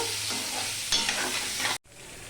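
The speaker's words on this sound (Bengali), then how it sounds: "এবার ডিমটাকে আমি ভালো করে ভেজে নেব" Egg frying in a pan, a brief close sizzle with stirring scrapes, a sharper crackle midway, then a short drop before the frying resumes more quietly.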